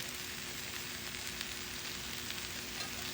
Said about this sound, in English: we're going to add some more finely chopped garlic into the pot here